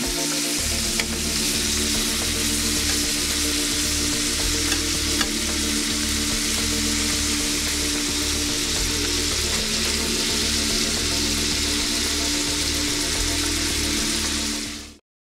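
Shrimp sizzle steadily in butter in a pan, a loud, continuous frying hiss with a faint rhythmic stirring pulse underneath, with no talking, until it cuts off abruptly at the end.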